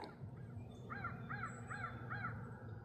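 A crow caws five times in a steady series, fairly distinct over a constant low outdoor hum, in the Hoosier National Forest of southern Indiana.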